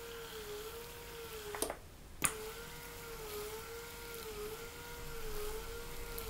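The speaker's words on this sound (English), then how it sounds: "Now it does have a bit of a mechanical whirring, I will admit." Small motorized device, likely a rotating heated gadget, giving a quiet steady whir with a gently wavering pitch, briefly interrupted by two clicks as it is switched.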